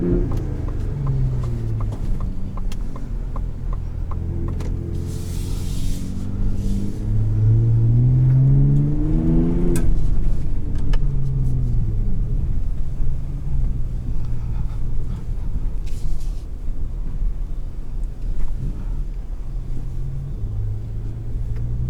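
A 2021 Ford F-150 Raptor pickup engine revs repeatedly, climbing in pitch and dropping back, over a deep steady idle rumble, loud and close.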